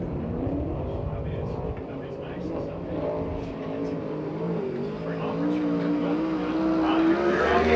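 Sprint car engine roaring around a dirt oval at a USAC/CRA sprint car race at the So Cal Fair in Perris, California, a steady loud drone that swells toward the end, with an announcer talking over it.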